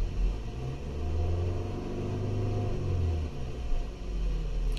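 Audi A6 C7 2.0 TFSI standing still with the gas pedal pressed, a low engine rumble that rises and falls in a few rev swells, heard fairly close with no talking.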